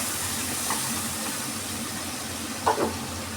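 Chilli paste and ginger frying in a pan, a steady, even sizzle that holds across the whole stretch, broken once by a brief stir or clatter near the end, with no talk.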